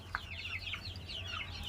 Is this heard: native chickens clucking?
yes